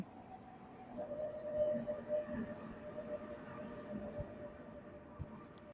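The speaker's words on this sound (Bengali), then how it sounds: "এই যে ট্রেন।" A train hums and rumbles at a platform in Halle Hauptbahnhof, Germany, with a steady tonal drone and low mechanical noise, fairly loud and continuous.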